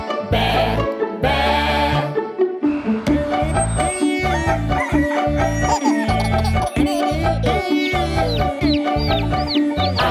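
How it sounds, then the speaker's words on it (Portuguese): In a Brazilian Portuguese children's farm song, a hen's clucking blends with a bouncy musical backing of repeated bass notes and melodic phrases, all loud and upfront. "A galinha da fazenda faz cocorocó"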